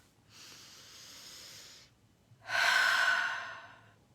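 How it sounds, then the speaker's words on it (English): A slow, deep breath is drawn in softly and then pushed out in a longer, louder exhale, heard close in a quiet room. "Take a breath."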